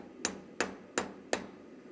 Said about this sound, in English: My round side of the hammer. And just pucker it up.